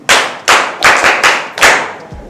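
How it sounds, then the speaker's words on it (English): A class clapping for a student in a classroom, loud, distinct, sharp claps in uneven bursts, close by and with no talking. "Clap for him."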